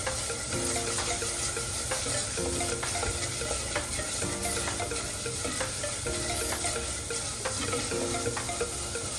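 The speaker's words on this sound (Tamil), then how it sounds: "இருக்க வடிவாக மிக்ஸ் பண்ணிக்கலாம் இந்த பச்சை வாசம் போகணும்" Spice mixture for fish curry being stirred in a clay pot, a continuous close frying sizzle with repeated rhythmic scraping strokes throughout, no voices.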